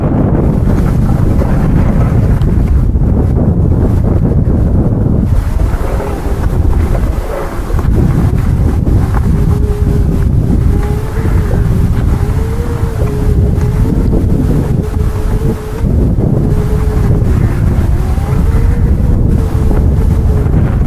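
Heavy wind buffeting the microphone on a riverside walk, a loud continuous low roar with gusty swells throughout, no voices.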